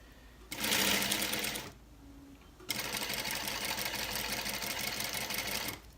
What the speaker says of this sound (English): Start stitching.